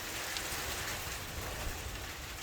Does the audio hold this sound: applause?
no